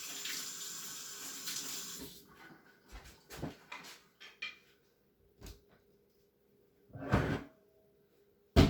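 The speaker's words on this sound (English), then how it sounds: "Let me wash my hands off." Kitchen tap running as hands are washed, water splashing at first, then intermittent short gushes and clatters, fairly faint and alone.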